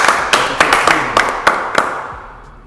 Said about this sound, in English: We're gonna clap it up for